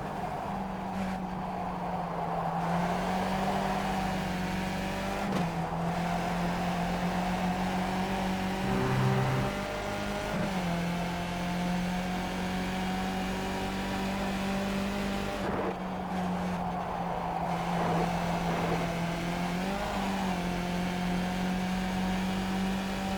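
Skip Barber race car engine in iRacing, a steady droning whine held at high revs with brief dips and recoveries at gear changes, continuous and close, with no talk.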